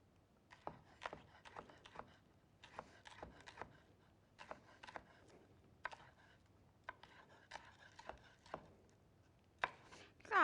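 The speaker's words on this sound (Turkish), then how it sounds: "biberimi de doğrayacağım" A knife chops a bell pepper quickly on a cutting board in short bursts of rapid taps, close and clear, with brief pauses between runs.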